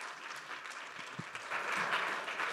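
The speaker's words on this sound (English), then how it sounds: "A warm round of applause." Conference attendees at a marine science event applaud a speaker taking the stage, a soft, distant patter of clapping that swells slightly toward the end.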